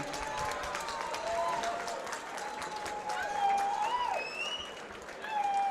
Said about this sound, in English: round of applause for both of these warriors